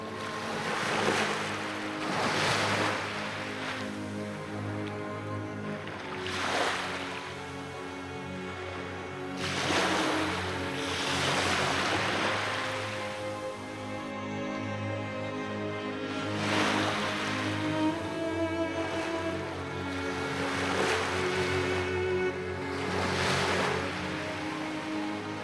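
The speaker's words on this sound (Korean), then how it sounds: "썰물에 물 빠지는 소리를 도깨비 걸음이라 여겼죠." Sea water draining back over the shore at ebb tide, with slow swelling waves rushing in and receding every few seconds, soft and washy, with light wind and no voices.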